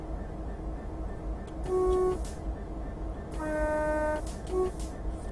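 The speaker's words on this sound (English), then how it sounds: "So you get the horn, space and B key for the horn. You can only do the high tone horn on there." DRS Class 66 locomotive horn in Train Simulator 2015, sounding two distinct high-tone blasts, the second longer, over a steady engine drone with no talk.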